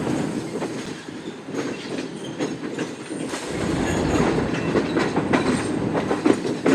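The Shalimar Express, running with a hot axle, rolls toward platform 4 of a station with a deep rumble and rhythmic clickety-clack of wheels on rails that grows louder and fuller halfway through.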